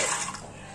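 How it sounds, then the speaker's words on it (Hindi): A short splash and gurgle of water poured into a pressure cooker over soaked chickpeas, loud at first, then fading within a second. "डाल देंगे पानी।"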